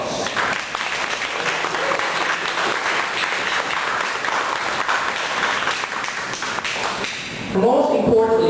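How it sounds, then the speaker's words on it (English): Audience applause for club officers at a club's state-of-the-club address, a dense sustained wash of clapping throughout, ending in a brief swell of other sound near the close. "Ladies and gentlemen, these individuals deserve your thunderous applause."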